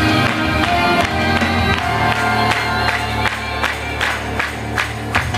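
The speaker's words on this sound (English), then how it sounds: "Come on, clap those hands." A concert crowd at an after-hours retreat show claps and cheers over loud music with a steady beat. The even rhythmic claps run through the whole stretch, partly blended into the band.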